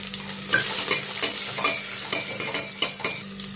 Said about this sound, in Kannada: ಮೊದಲು ಇದನ್ನ ಸ್ವಲ್ಪ ಫ್ರೈ ಮಾಡ್ಕೊಂಬಿಡೋಣ ನಾವು.